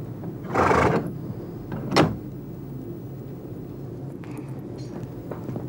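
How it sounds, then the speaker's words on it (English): A stable door slides and bangs shut with a rough scraping rush, then a single sharp metallic clack of the bolt, followed by quieter faint rattles nearby. "And of course, bolt the door on the way out."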